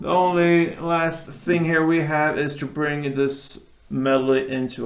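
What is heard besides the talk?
No everyday noise stands out behind the speech.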